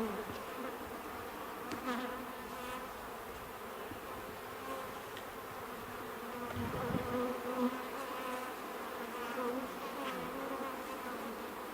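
Honey bees swarm around an opened beehive, their steady droning buzz filling the air at close range, with some louder passes of individual bees near the microphone and no talking.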